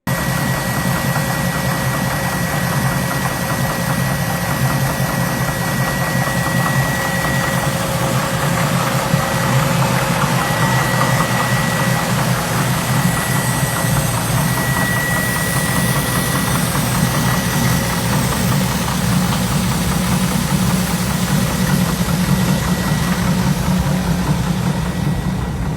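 A 1932 Ford Roadster hot rod with a vintage Ford V8 idles steadily up close, a loud, continuous low rumble with a faint mechanical knock running throughout and no talking.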